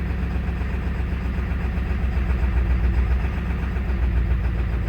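A 2001 Ford F250 with a 7.3L turbo diesel and 304,000 miles, held just off idle by light throttle, running as a steady loud diesel rumble with slight swells in engine speed, close up with no talk.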